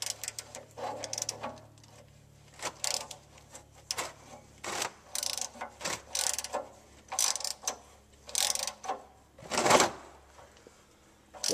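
A ratchet and socket loosening the oil drain plug on a 1990 Ford F-250, with irregular clicking and metallic scraping in short bursts, close and fairly quiet.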